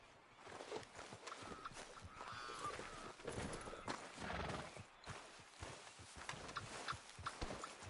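Horse hooves clip-clop in the video game Red Dead Redemption 2, a steady walking rhythm of fairly close hoofbeats with faint snorts and ambient noise and no clear speech.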